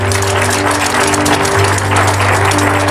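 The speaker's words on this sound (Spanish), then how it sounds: "un fuerte aplauso a Dios, hermano" Church congregation applauding together during a service, a dense steady clatter of clapping over a low sustained hum, with no voices.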